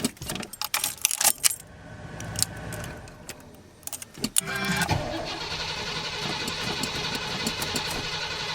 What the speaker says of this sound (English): This is gonna be its last fire up with this engine